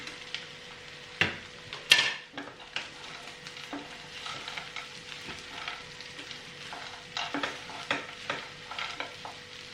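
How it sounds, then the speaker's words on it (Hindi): Peanuts and potatoes fry in a pan with a soft, continuous sizzle, broken by scattered spoon scrapes and a couple of sharper clanks near the start. "थोड़ी देर के लिए हम इसे फ्राई करेंगे"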